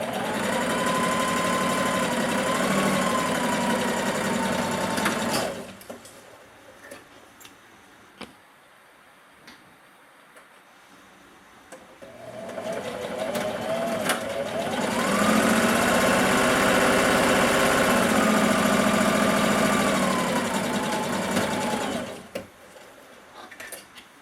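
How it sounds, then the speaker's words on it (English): A sewing machine stitches a half-inch seam through pinned fabric in two long, steady whirring runs separated by a quiet pause with faint handling noises. The motor hum is loud and close, with no voices. "And sew at a 1/2 inch seam allowance what we've already pinned."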